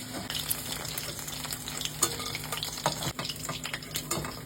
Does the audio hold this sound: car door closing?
no